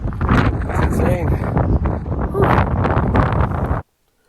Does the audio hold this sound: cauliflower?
no